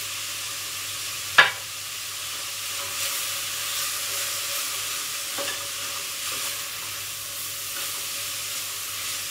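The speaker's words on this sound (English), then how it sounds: "Good stir." Onions and vegetables for a vegetable bake fry in a pan under a steady soft sizzle, with one sharp clack of a utensil early on and light scraping as they are stirred.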